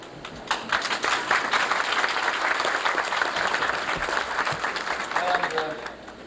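Applause fills a room at a 25th wedding anniversary celebration for Fred and Evelyn Bailey, a steady dense clapping that runs throughout and fades slightly at the end, with voices faintly mixed in.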